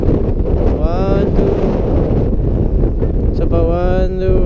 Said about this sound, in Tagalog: ang lakas ng hangin, tinatangay ng hangin yung drone